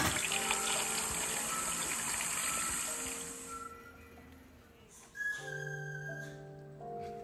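A kitchen tap gushes water over vegetables in a sink while chicken soup is prepared. The rushing water is loud at first, then cuts off, leaving quieter clinks and faint kitchen sounds.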